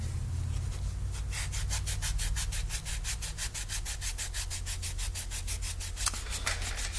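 Repetitive rubbing scrape of Subaru engine valves being lapped by hand with abrasive paste, a steady back-and-forth grinding rhythm of roughly four strokes per second, close and continuous, over a low constant hum.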